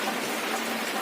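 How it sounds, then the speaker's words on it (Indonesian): Steady rain falls on an overcast day while a car battery charges outdoors, a continuous even hiss of drops with no break and no voices. "padahal posisi mendung dan hujan"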